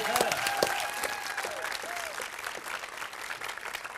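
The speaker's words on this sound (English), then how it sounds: "a big round of applause" Audience applause at the FameLab UK 2017 final science communication competition, a sustained round of clapping from a crowd filling the hall, steady and fairly loud throughout, with faint voices mixed in.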